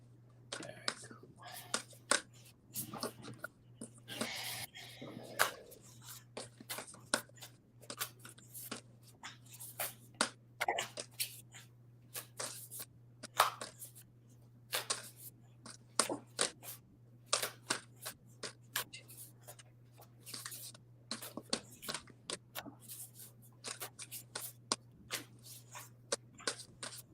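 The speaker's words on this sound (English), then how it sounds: "It's weird shuffling like this now." Oracle cards are shuffled by hand in quiet, irregular bursts of soft riffling and slapping, close and faint, over a steady low hum, with whispered talk at times.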